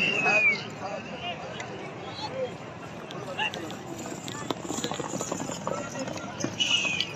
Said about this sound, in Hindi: घोड़ा फखरे नादिर खैल शाबाश बचिया शाबाश